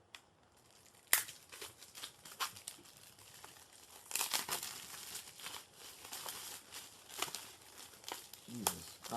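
Plastic wrap crinkles and crackles as a Blu-ray case is slit open with a small package opener, with sharp tearing bursts and steady rustling close by.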